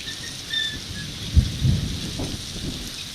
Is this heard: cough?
no